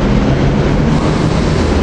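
A commuter train, number 584 with its rail cars, rolls into 30th Street station at rush hour, making a loud, continuous rumbling roar of wheels and carriages heard close by.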